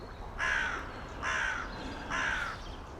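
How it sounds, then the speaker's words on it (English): Three loud, harsh crow caws, evenly spaced about a second apart, fairly close over a quiet outdoor background. "These crows think they know everything."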